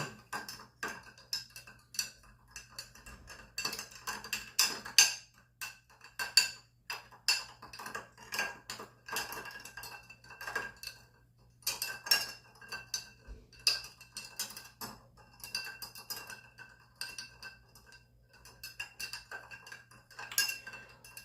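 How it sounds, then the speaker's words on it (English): A classic martini stirred over ice cubes in a mixing glass, with steady rapid clinks and rattles of ice against glass and spoon throughout, close and clear with no talking. "these cubes actually were not a good idea. They're not letting me stir as well as I like to."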